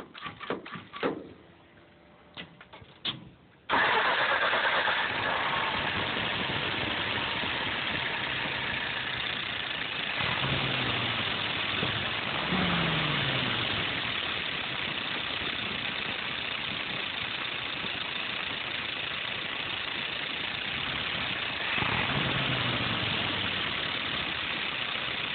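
Warm restart of a Mike's 539 engine with a valve problem: a few seconds of cranking and clatter, then the engine catches and settles into a steady, loud idle that runs on alone.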